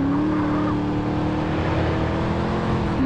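Car engine revving steadily at speed in GTA San Andreas, a continuous close droning motor with a slight pitch shift near the end, no talking.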